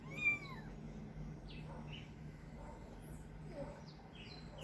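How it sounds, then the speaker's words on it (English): Scared kitten stuck on outdoor steps, giving a few thin, faint meows, the first one a bit louder than the rest, over steady low background hum with some bird chirps. "this is a cat, a baby cat. It's called a kitten."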